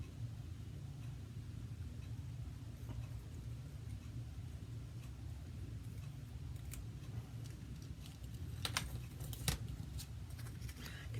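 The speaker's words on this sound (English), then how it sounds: "The most important thing about fussy cutting is to remember to make sure your hand is comfortable and you're twisting the paper." Scissors fussy cutting paper for stamped craft pieces: soft snips and crisp paper rustles grow sharper and more frequent toward the end over a low, steady background rumble.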